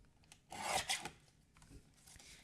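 A paper trimmer slicing through a cardstock panel, a quiet short scraping swipe with a second brief rasp just after, faint and close.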